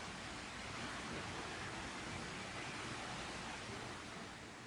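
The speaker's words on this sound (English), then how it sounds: "here's a closer look at the Bass Pro Shops sculpture slash fountain they built when they decided to move in here" A water fountain splashes in the Bass Pro Shops bear, buck and waterfall sculpture inside the abandoned Harrisburg Mall, a soft, constant hiss of falling water that stays even and fairly quiet throughout.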